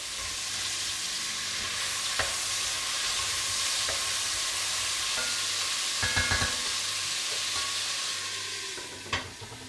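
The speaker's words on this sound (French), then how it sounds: "je fais revenir doucement" Ham gently sautéing in a pan for an asparagus ragout, a steady soft sizzle throughout with occasional stirring clatters, alone with no talk.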